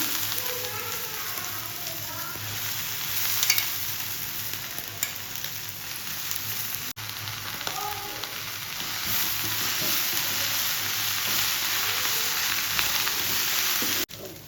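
Drumstick leaves and grated coconut sauté in a pan, making a continuous soft sizzle and crackle with occasional stirring scrapes, steady throughout at close range.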